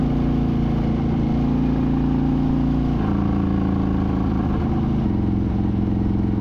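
Harley-Davidson Road King motorcycle cruising north on a highway, its steady low engine drone continuous and close with a shift in pitch around midway and again near the end, no voices.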